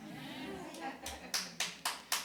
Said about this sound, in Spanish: Sí, el aplauso es para el Señor.